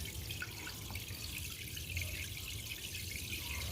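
Fresh water trickling and splashing into a glass fish tank, a steady, soft watery patter with light drips, close by and continuous with no talking.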